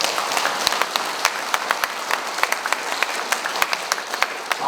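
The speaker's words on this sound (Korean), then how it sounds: "박수 한번 쳐주십시오." An audience at a governor's town-hall meeting with Tongyeong citizens breaks into loud, sustained applause, with sharp individual claps standing out against the continuous roar of hands throughout.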